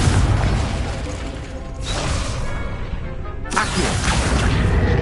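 Repeated booming blasts from the Confringo fire spell in Hogwarts Legacy, cast at a training dummy: heavy explosive bursts and crashes fill the clip, with one sharp new blast partway through, loud and close.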